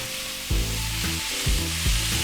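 Carrots sizzle steadily in a hot pan for chakalaka, with a few scraping stirs of a spoon mixing them through the oil; close and continuous, no talking.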